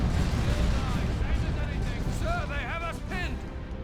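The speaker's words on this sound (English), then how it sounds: "Double Cyclone missile launchers." Cyclone missile launchers firing in the sci-fi strategy game Dawn of War II: Retribution, Space Marines against Imperial Guard, a dense continuous rumble of launches and blasts with a few whistling streaks near the end.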